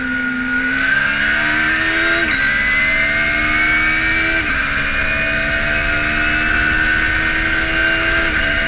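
Race cars roar away at the start of the 2018 Birkett six-hour relay race at Silverstone, a loud, sustained blend of engines climbing in pitch through several upshifts as the pack closes up down the straight.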